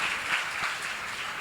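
Audience at a church seminar applauding: a dense, steady wash of many hands clapping that carries on without a break, heard from within the room.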